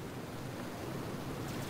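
Steady, dense rushing water roars continuously with a broad hiss, like a large waterfall close by, in the video game Descent 2, with no voices.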